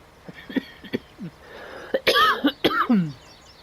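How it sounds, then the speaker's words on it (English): A series of dry coughs and throat-clearing bursts from one person close by, irregular and fairly loud, with short pauses between them. "there is going to be the odd time I cough"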